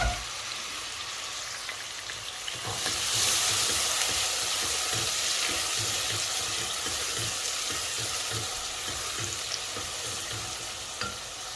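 Onions frying in a pan for a Bangladeshi-style chapila fish curry, a continuous close sizzle with repeated scraping strokes of stirring that swell louder after a few seconds, with no talking.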